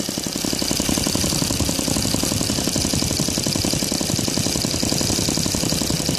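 A Laser 160 engine converted to CH ignition runs steadily at a fast, even rhythmic beat, loud and close with a dense mechanical clatter and no talk.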